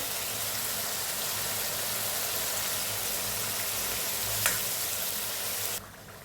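Tomatoes frying with salt in a pan give a dense, steady sizzle close up, continuous and even for several seconds before it drops a little at the end, with no voices.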